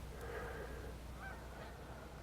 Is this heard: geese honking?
yes